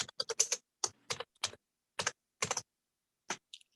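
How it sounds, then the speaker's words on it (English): Keyboard typing from a participant in an online town hall meeting, a quick run of close, crisp key clicks in short bursts with brief pauses between them, heard alone without talk. "There's someone who is typing."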